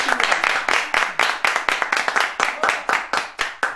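A studio audience on a music variety show claps in rhythm, sharp regular hand claps close and fairly loud, continuing steadily with no talk over them.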